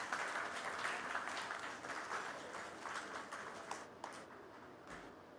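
Audience at a conference valedictory function applauding an organiser, a broad, fairly distant wash of many hands clapping that stays steady and then thins into scattered claps toward the end.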